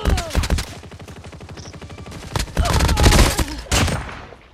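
Rapid gunfire from a shooter video game, loud bursts of automatic fire with steady rattling rhythm, then heavier clustered shots and a final strong burst, close and dominant with no talk over it.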